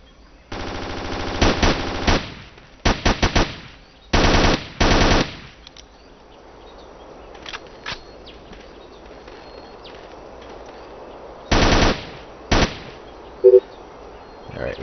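Bursts of automatic gunfire crackle in the Ghost Recon Island Thunder video game, several loud rapid volleys separated by pauses, with a faint ambient background between them.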